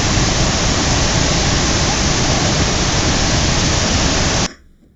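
Niagara Falls roaring as a dense, loud, unbroken rush of water that fills the whole sound, heard close, before cutting off abruptly near the end.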